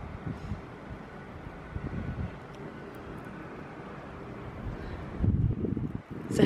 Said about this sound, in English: And it's getting really windy now.